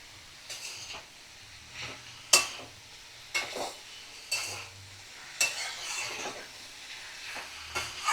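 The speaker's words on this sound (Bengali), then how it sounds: "আমি 5 থেকে 7 মিনিট চিংড়ির সাথে লাউ কষিয়ে নেব" Bottle gourd and prawns sautéing over a medium flame, with repeated spoon scrapes and stirs against the pan over a light sizzle, spaced every second or so at close range; no talking.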